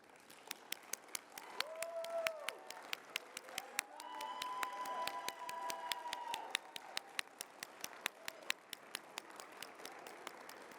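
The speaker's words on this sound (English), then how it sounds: "Please join me in giving them a round of applause." Conference reception audience applauding the staff at an annual conference, a fairly faint, sustained crowd clap with sharp individual claps standing out and a few whoops, steady for about ten seconds.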